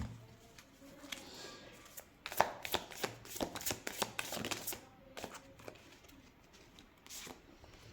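Tarot cards are pulled and shuffled close up during a reading, producing a quick burst of crisp riffling clicks and flicks. Quieter card handling follows, with no one speaking.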